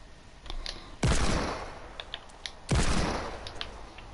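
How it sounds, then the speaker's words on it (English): Two loud, close bursts of gunfire in the Fortnite video game, each a sharp blast that rings out and decays over about a second, with faint clicks and small shots in between and no talking. "I'm randomly shooting."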